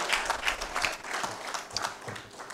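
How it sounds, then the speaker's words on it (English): Audience claps for a guest during a professor's lecture at an annual general meeting, with fairly sparse, uneven clapping from a moderate crowd, some hands standing out near the microphone. "You will clap for the person that gave me my first job."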